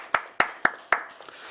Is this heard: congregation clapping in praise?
yes